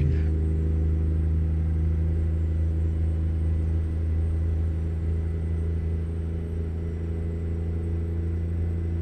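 Truck engine in American Truck Simulator drones with a steady low rumble as it winds up toward about 1800 RPM, a constant near, loud hum holding even for the whole stretch with no speech.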